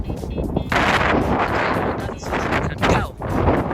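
Strong, cold wind sweeps across an outdoor parking lot in Houston, Texas, pounding the microphone with loud, continuous rumbling gusts that swell and dip over a few seconds, with no clear speech.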